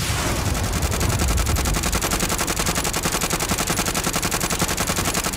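Rapid, steady automatic gunfire from the video game Warzone rattles on without a break, loud and close, with a dense rhythmic burst pattern and no talking.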